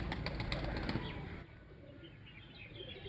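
A racing pigeon in a Kharian–Abbottabad competition flies in, its wings giving a close, rapid flapping burst that fades after about a second into quieter outdoor ambience.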